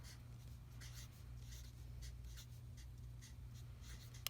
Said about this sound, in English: but I can also write it up here at the top